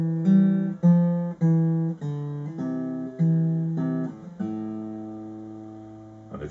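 Acoustic guitar finger-picking the opening line of a song, a sequence of clear plucked notes and chords in steady rhythm, ending on a sustained ringing chord, played alone and close up.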